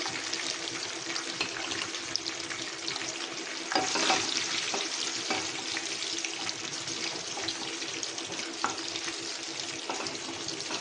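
Mustard seeds, urad dal, cumin and garlic tempering in hot oil for a gongura and sesame pickle: a steady close sizzle with scattered sharp crackles and pops, no talking.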